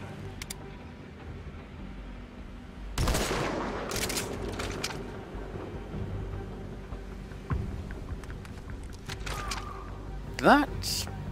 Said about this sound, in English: Are these guys actually going to check this gunfire out?